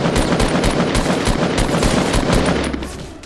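Rapid automatic gunfire from a video game, loud and continuous bursts of shots in close succession, tapering off at the end.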